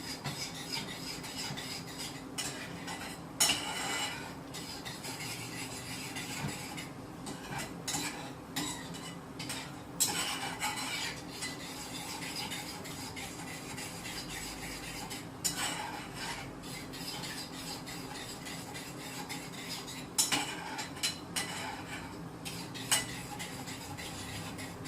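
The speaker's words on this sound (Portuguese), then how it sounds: "Mexe um pouquinho." A utensil stirs cream in a bowl while a low-carb, gluten-free coconut chocolate torte is being prepared. Soft, steady scraping and swishing repeats, with occasional clinks against the dish. It is fairly quiet and no one speaks.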